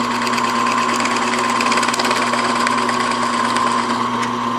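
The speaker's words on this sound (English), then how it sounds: "So pick up a Forstner bit that just about gets you into the 2 corners" A Forstner bit drills into the corners of a wood half-blind dovetail joint, giving a steady, loud mechanical whine with a constant tonal hum throughout, close up and uninterrupted.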